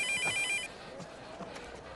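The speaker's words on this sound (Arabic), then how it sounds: "طيب ارد على التليفون ثانيه واحده" A telephone rings with a short, bright electronic trill in the opening moment, followed by faint room noise and soft movement.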